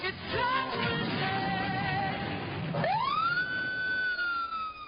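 A police car siren wails, sweeping sharply upward and then holding a steady, loud tone, following a dense stretch of other sound in a TV news segment about speeding enforcement.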